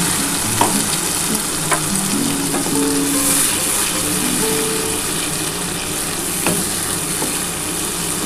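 A ground paste of onion, ginger, garlic, coriander leaves and whole cumin fries in a pan for a spicy Bengali bhola fish curry, a steady close sizzle broken by occasional stirring scrapes and taps, with no talking.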